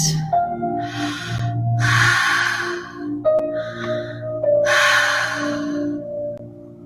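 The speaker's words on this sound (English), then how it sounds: "Breathing in and breathing out." Slow breathwork breaths, in and out through the nose and mouth, come as several airy rushes with pauses between them over a soft sustained tone, close and clear, with no talking.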